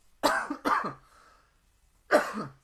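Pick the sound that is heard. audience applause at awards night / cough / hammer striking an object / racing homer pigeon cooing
cough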